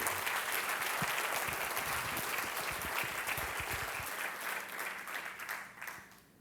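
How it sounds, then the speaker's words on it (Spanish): A church congregation bursts into loud, sustained applause during a sermon, dense clapping that fills the room and slowly fades toward the end. "Si va a aplaudir, aplauda fuerte su gloria."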